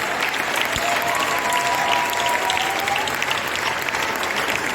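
A church congregation applauding throughout a service, as dense, steady clapping from a large crowd that holds at an even level from start to finish.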